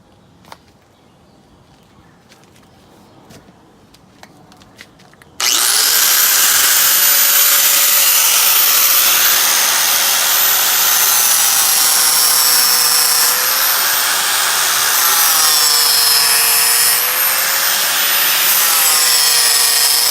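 An All America Sharpener model 5005EXT bench sharpener grinds blades. After a quiet stretch with a few small clicks, a loud, steady, close grinding whine kicks in abruptly and holds with slight wavering pitch until the end.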